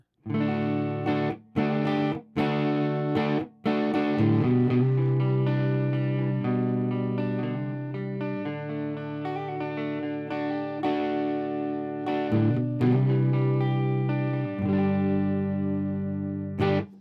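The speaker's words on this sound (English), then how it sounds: "let's just go ahead and listen to the Princeton Reverb for a little bit" Electric guitar through a Fender Princeton Reverb tube combo amp plays a few sharp strummed chords on the neck pickup, then rings out in sustained, slightly overdriven notes with a warm amp tone and light reverb.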